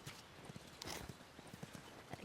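Horse hooves clip-clopping in the video game The Last of Us, a steady, quiet rhythmic walking gait of muffled thuds over soft outdoor ambience.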